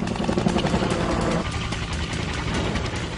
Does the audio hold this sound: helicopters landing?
yes